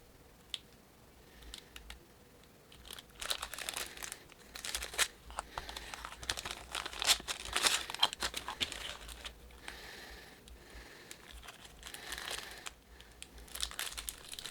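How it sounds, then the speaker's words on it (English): Plastic bags crinkling and rustling while wooden Les Paul guitar pickguard parts are taken out of them, with close, irregular crackles that come in bursts and no talking. "I'll remove the parts from the plastic bags so I can have a better look at them."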